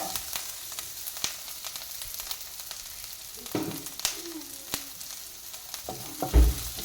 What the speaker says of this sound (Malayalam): ഇതൊന്ന് നല്ലതുപോലെ ഫ്രൈ ആയി വരണേ.